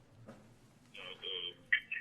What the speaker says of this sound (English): Mr. Miller, can you mute your phone, please